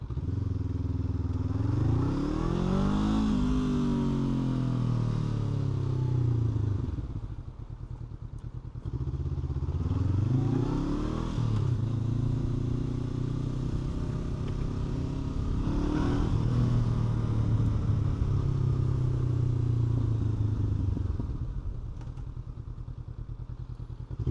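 A 2026 Kawasaki Z500 or Honda CB500F motorcycle pulls away and accelerates on a street ride, its engine note climbing through several gears in repeated rising sweeps, loud and close throughout, with wind rumble and no talking.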